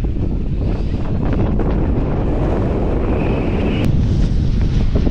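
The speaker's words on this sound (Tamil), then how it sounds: "காற்று அடி தூக்குது" Strong gusting wind buffets the microphone at the Chathurangapara mountain viewpoint in Idukki, Kerala, a loud continuous roar throughout with no speech.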